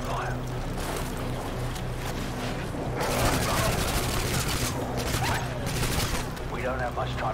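Gunfire rattles in Modern Warfare 2 during a snowy stealth mission, with bursts of suppressed shots and crackling game effects over a steady ambient bed, while voices talk through the action.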